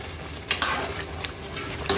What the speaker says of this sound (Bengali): তেল দিয়ে বাগার দিব, একদম শুকিয়ে আসতে হবে